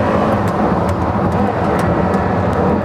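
A Porsche Carrera GT's engine pulls hard on a race track, a loud, steady high-revving drone with wind rush, close and continuous throughout.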